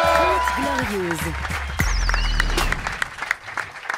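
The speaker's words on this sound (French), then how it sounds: "je vous demande d'applaudir la chronique du bof" An audience at a French comedy show applauds a comic segment: voices and a whoop carry over the first half, then scattered, crisp clapping from many hands continues beneath.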